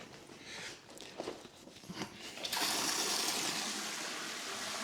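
Water is poured to fill a sheep's trough on a farm. A few clanks and knocks come first, then a steady gushing rush of water starts midway and continues to the end.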